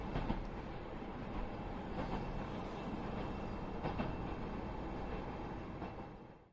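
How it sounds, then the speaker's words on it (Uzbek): A train rumbles steadily along the rails with faint rhythmic clacks, the continuous noise fading out at the very end. "Poyezd bir kecha kunduz mangdi."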